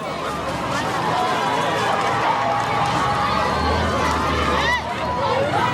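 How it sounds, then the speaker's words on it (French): A crowd of townspeople in the Central African Republic surges and runs, a dense, loud rush of footsteps and shuffling with agitated shouting and babble throughout. "Soudain, un mouvement de foule."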